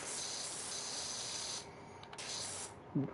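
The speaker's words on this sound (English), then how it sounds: "I'm just power washing" Close, steady hiss of a power washer spraying in Power Wash Simulator, cutting out briefly twice before starting again, ending with a short thump.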